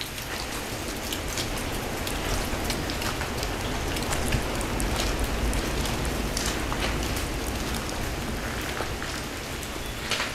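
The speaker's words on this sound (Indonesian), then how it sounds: "Karena ini hujan" Steady rain falls outdoors at a festival park, a dense, even hiss with scattered close drops pattering throughout, loud and continuous with no talk.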